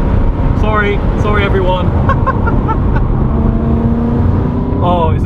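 Decatted BMW M3 engine raspy and loud under a manual downshift, the revs climbing and falling in quick blips, with a short spoken apology over the engine noise.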